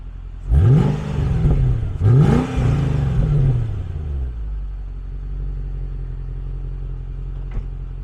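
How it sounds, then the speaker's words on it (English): A 2006 Mercedes C55 AMG V8 engine revs twice, each blip rising to a deep roar and falling back to a steady, close rumbling idle. "we'll be able to hear the awesome growl of that V8"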